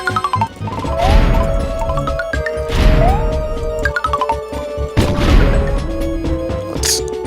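An enemy in New Super Mario Bros. smashes platforms, heavy crashing thuds landing about every two seconds amid bright game music and tones, loud and close.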